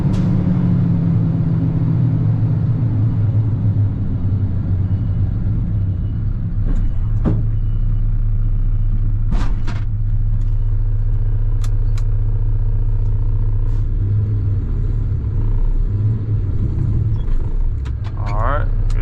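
A rental pickup truck's engine drones steadily from inside the cab, a low constant rumble with occasional clicks and rattles over the drive.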